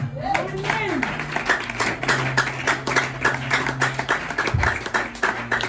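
A church congregation claps in a fast, steady rhythm of sharp hand claps, loud and close. A low rumbling hum runs beneath the clapping, and a voice rises briefly at the start.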